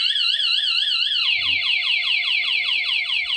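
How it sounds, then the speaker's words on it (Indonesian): A PANOM alarm fitted to a Yamaha R15 motorcycle sounds loudly and up close, a steady warbling electronic tone that shifts partway through into a rapid repeating whoop pattern, with no talking. "Alarm bunyi."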